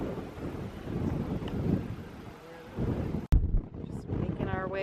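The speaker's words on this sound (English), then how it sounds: "It's very, very windy." Strong gusting wind on a mountain trail in Acadia National Park, buffeting roar with brief lulls and a sharp thump, a voice speaking faintly under it.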